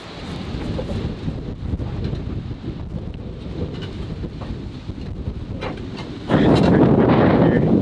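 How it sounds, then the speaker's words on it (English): Strong wind blows outdoors, a steady rushing rumble buffeting the microphone, with a louder, harsher gust near the end. "It's pretty windy here. Just feel it's blowing around."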